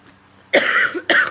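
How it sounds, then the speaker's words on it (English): A woman at home doing her makeup coughs twice, two sharp, close, loud bursts about half a second apart after a moment of near silence. "I apologize for my cough."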